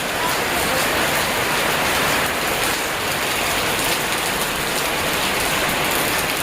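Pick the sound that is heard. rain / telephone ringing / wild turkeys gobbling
rain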